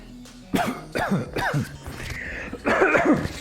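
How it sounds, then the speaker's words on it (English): Several harsh coughs come in quick bursts, close and loud, followed by a raspy throat-clearing fit. "Excuse me for coughing in your ear, everyone."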